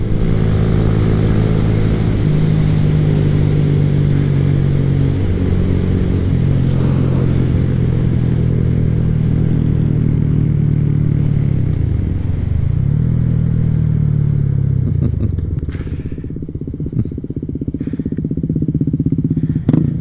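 A Honda Grom motorcycle's engine drones steadily while riding on city streets, pitch dipping and climbing through gear changes, then clattering near the end as an upshift from fourth fails; loud and close, no talk.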